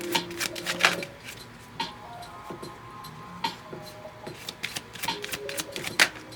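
Playing cards riffle and snap in quick bursts of shuffling and dealing, with crisp papery flicks and taps repeating close by across the whole stretch, no voices present.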